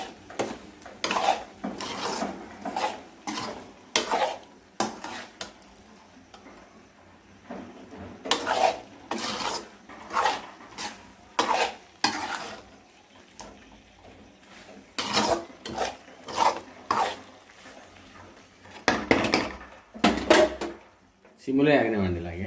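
Chicken liver fry with homemade garam masala stirred in a pan, giving repeated scraping and rasping strokes of a spatula against metal, each a short burst with brief pauses between them, fairly close.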